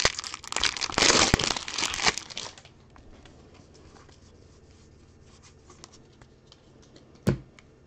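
Crinkly paper wrappers rustle and crackle loudly as baseball card packs are torn open during a break, dense for the first few seconds and then dropping to faint handling noise with one brief rustle near the end.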